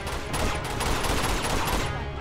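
Rapid, dense gunfire from a firefight in Uncharted 2: Among Thieves, loud and continuous bursts of automatic shots filling the whole moment.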